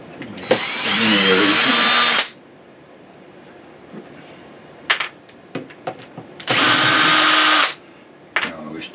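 A power drill run in reverse to undo screws on a Marshall AS50R amplifier in a small workshop whirs loudly for about two seconds, then again for about one second, with quiet handling clicks and knocks in between.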